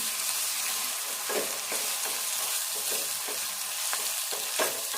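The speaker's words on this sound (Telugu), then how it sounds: "అల్లము వెల్లుల్లి పేస్టు ఇదంతా కూడా కొద్దిసేపు వేగాలి." Ginger-garlic paste sizzles and crackles in hot oil with intermittent stirring scrapes, close and continuous for several seconds.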